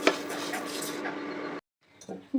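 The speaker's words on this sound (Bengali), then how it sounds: "এটা একটু ভেজে নেবো" Dal and rice dry-roasting in a kadai for khichuri, a loud sizzling, scraping rattle for a second and a half that cuts off abruptly, followed by quieter clinks and a brief voice.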